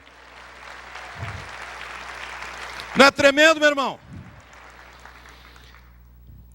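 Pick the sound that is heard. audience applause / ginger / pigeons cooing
audience applause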